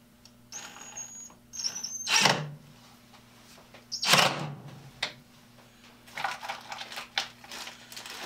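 A power drill drives cam lock screws into a bathroom vanity during assembly, in two loud whirring bursts with quieter clicks and handling noise in between.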